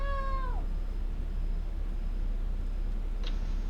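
A person imitates a cat meowing during a tabletop role-playing session, one drawn-out falling meow at the start, then a quiet room with a low steady hum and a faint brief sound near the end.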